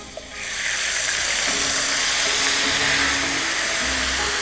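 Butter melting with lemon juice in a hot pan for chicken piccata gives a steady, close, loud sizzle and hiss that starts abruptly and holds evenly throughout, with no talking.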